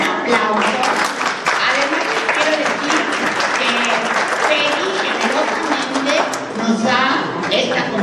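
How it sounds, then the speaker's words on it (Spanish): A lecture audience at a brain-science talk claps steadily and loudly for the whole stretch, a thick, even wash of applause with a few voices mixed in. "Un aplauso."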